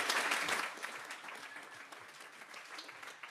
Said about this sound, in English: can we get another round of applause for Cathrine